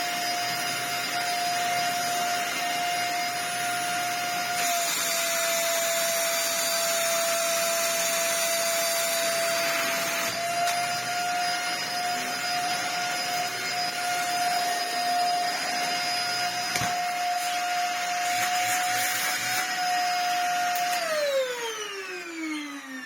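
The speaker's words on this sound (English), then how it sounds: "It has little suction, and changing the bin doesn't seem to have given it much more either." A Dyson DC50 upright vacuum cleaner with weak suction runs continuously as a loud, steady whine with a sustained tone, winding down at the end as the motor spins to a stop.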